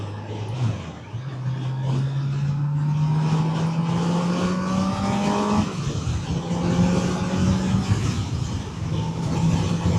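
Kawasaki Z900RS motorcycle engine pulling through the gears while riding, a rising drone that drops with a gear change and climbs again, steady and fairly close under wind noise.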